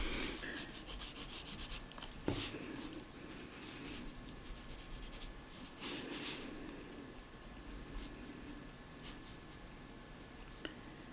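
Pencil scratching and rubbing across sketchbook paper while erasing and redrawing an animal drawing, soft and close, with a few sharper taps and scrapes over a faint background hiss.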